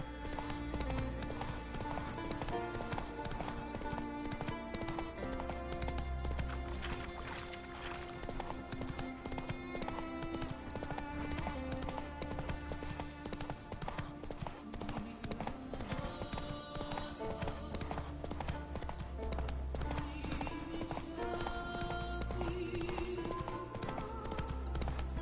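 Roach the horse gallops in The Witcher 3, a steady rhythmic clip-clop of hooves running continuously under game music, with brief whinnies and no talking.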